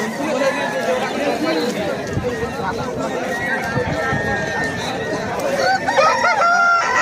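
Roosters at a cockfighting fair, several crows rising over a busy crowd, with someone talking throughout amid the chatter of people nearby.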